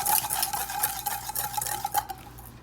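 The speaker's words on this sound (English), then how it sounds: "you're going to whisk the sugar and egg" A whisk beats sugar and egg yolks in a bowl for eclair cream, a quick, steady rhythm of close scraping and clinking strokes against the bowl.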